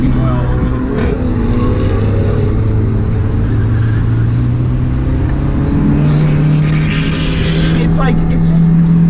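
A Honda S2000 on a race track, its engine droning and climbing steadily in pitch under continuous nearby talk.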